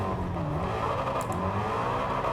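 An engine-swapped Ford Mustang in Gran Turismo 7 accelerates hard, its engine roaring steadily and loudly throughout, with a brief tire chirp partway through.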